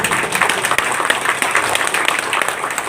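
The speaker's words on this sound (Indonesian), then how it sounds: "Tepuk tangan." Dense, continuous applause from a crowd at a Madas Nusantara inauguration ceremony for the Cilincing branch in North Jakarta, loud and sustained for the whole stretch with many hands clapping at once.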